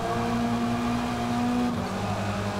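A Lynk & Co 03 TCR race car in the Forza Motorsport racing game gives off a steady, close engine drone at an even pitch that dips slightly near the end.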